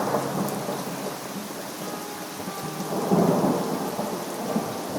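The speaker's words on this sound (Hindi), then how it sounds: "बारिश अचानक इतनी जोर से शुरू हुई कि लगता था मानो बादल फट गए हों" Cartoon heavy rain pours steadily with a deep rumble of thunder rolling underneath, swelling louder toward the end; no voices.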